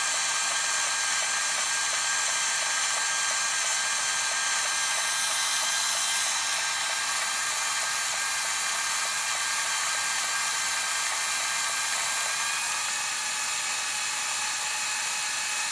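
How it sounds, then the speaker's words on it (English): Yashica T3 compact film camera motor rewinding a roll back into its cassette, a steady high-pitched mechanical whir held close and constant for the whole stretch, shifting slightly in tone near the end. "Now it's rewinding all the film back into the cassette."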